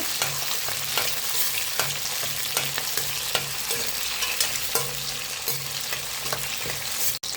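Two handfuls of shallots sautéing in a pan for okra tamarind curry, with a dense, steady sizzle up close, broken by periodic stirring scrapes and light clicks of the spatula.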